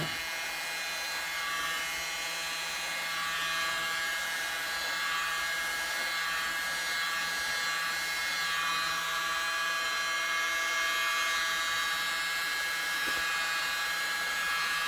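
A dryer blows air steadily over cell activator on a painting, a continuous loud whirring hum with a high whine that holds evenly throughout.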